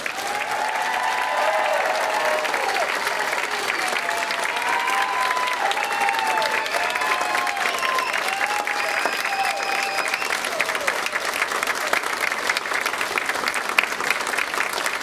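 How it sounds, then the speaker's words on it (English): Loud, sustained audience applause fills a graduation pinning ceremony for a diagnostic medical sonography class, with steady clapping from a large crowd continuing for about fifteen seconds and a few faint cheers mixed in. "Let's give them one more round of applause."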